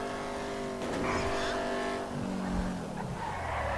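A Pisswasser Dominator race car in GTA 5 roars with a sustained engine tone and skidding tire squeal, fairly loud and continuous, with the engine note dropping partway through.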